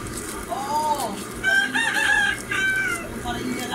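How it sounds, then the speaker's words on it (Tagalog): A rooster crows a full cock-a-doodle-doo nearby, with another crow partly overlapping, over a low background hum. "Kaya may manok nagtitilahok."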